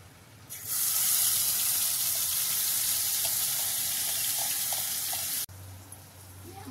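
Ground masala dropped into hot oil with roasted curry leaves in a pan for a Surmai fish curry, bursting into a loud, steady sizzle that holds for several seconds, then cuts off and drops to a lower hiss.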